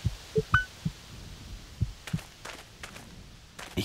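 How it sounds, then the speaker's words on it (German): A video game heartbeat thumps in low, irregularly spaced double beats, faint and muffled against a quiet hum, with a few light footsteps in the background. "Also wir hören wieder Herzschlag."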